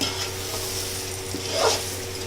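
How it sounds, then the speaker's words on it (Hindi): Chicken frying with yogurt and spices in a pan gives a constant dense sizzle, with a stirring scrape swelling briefly partway through. "थोड़ी देर चिकन को दही के साथ भूनेंगे।"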